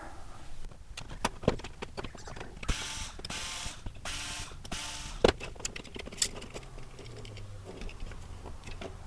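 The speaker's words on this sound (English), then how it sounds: "Okay, so let's start taking this apart." Small plastic Nerf Fortnite IR blaster being taken apart, with close, quiet clicks, rattles and screwdriver scrapes, including two longer bursts of scraping or ratcheting as screws are removed; no speech.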